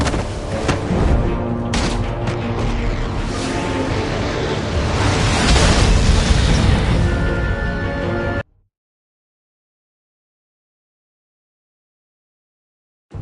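A large blast rumbles and crackles with debris in the Batman: The Telltale Series game, a loud sustained burst that builds before cutting off abruptly into silence.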